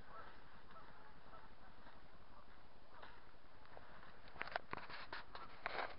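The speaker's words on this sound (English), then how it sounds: "It's just like a flat plain of land with tons of geese on it and they're squawking." A flock of geese honks across a drained loch bed at a Scottish wildlife reserve, faint distant calls over a steady outdoor hiss, with a few louder honks near the end.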